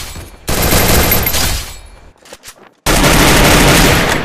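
Loud, dense bursts of automatic gunfire from a shooting video game, one long volley, a brief lull with scattered shots, then another sustained burst.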